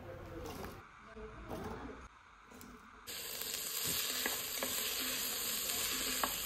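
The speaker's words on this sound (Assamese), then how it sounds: "এতিয়া পাচলিখিনি দি প্ৰথমে ভাজি লম" Mixed vegetables for pulao hitting a hot pan with ginger-garlic paste and green chili, a steady loud sizzle that swells partway through, with stirring clicks and a voice talking over it.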